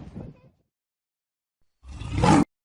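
A lion's roar, a short low growl followed by a louder, rising roar that cuts off abruptly, heard close and alone after a silent pause.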